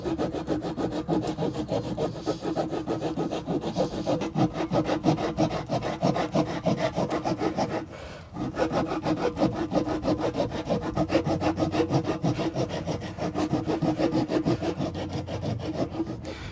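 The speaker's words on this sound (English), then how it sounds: "Just keep rubbing away until we get that area nice and cleaned up." A tyre sidewall being rubbed and scuffed clean around a repair area makes close, rhythmic scraping strokes that repeat steadily, with one brief pause midway.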